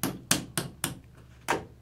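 Hammer strikes punching a hole into a ping pong ball, five sharp, loud taps spaced unevenly about every third to half second, each a bright crack with a short ring.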